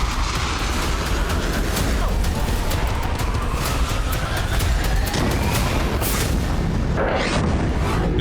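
Explosions from Israeli air strikes on Syria sound as loud, continuous broadband rumbling with repeated booms and blasts, dense and sustained with no quiet gaps.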